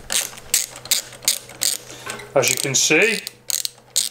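A ratchet tightens titanium bolts on a custom-painted mountain bike, clicking in quick bursts up close, with someone speaking briefly between the strokes.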